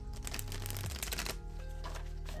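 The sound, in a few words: shuffling oracle cards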